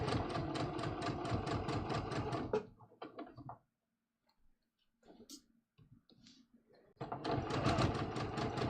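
A sewing machine stitches a neckline in a fast steady rattle, close and clear, stops for a few seconds of quiet handling noises, then starts stitching again at the same brisk pace.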